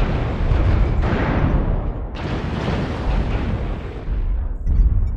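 Incoming missile explosions in a video game, a continuous heavy rumbling roar with fresh loud blasts near the start, midway and at the end, dense and booming without pause.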